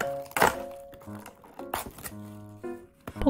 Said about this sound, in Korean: 랩을 씌우고